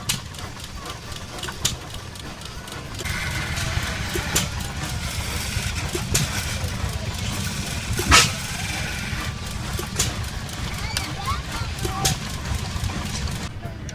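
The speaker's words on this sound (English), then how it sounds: "a man is showing you how to use an old school lathe as he carves a wooden bat" An antique lathe at a gas engine show turns while it carves a wooden bat, a steady low engine-like mechanical rumble with intermittent sharp ticks and one louder clunk partway through, set amid outdoor fairground noise and faint voices.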